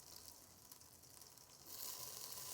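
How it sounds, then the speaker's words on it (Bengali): Chopped onion dropped into mustard oil in a pot sizzles faintly at first, then jumps to a louder, brighter frying hiss partway through, steady and close. "এখন প্রথমে আমি এই যে পাতিলে সরিষার তেলের ভিতরে দিয়ে দিলাম পেঁয়াজ কুচিটা"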